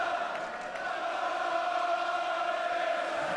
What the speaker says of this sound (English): The crowd giving voice, responding.